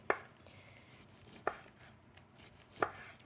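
A knife cuts thin rounds of Danish salami for small pizzas, giving three sharp, close chopping knocks on a board, spaced roughly a second and a half apart, with quiet kitchen ambience between them.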